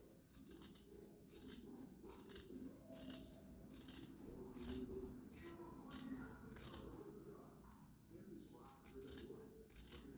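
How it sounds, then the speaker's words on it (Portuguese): Scissors used for cutting blanket fabric snip and trim steadily along a marked line, a run of close, quiet cuts and rustles. "Aí, com a tesoura que a gente usa pra cortar manta, essa aqui, né?"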